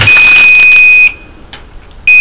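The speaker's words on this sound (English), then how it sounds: "the water presence detector will start beeping to attract my attention" A water presence detector sounds a loud, piercing, steady electronic beep alarm, one long tone that cuts off briefly before starting again, close up and alone.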